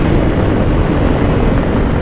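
Steady roaring wind buffeting a rider's helmet on a Honda Africa Twin at speed, a loud continuous broadband rush with no voices.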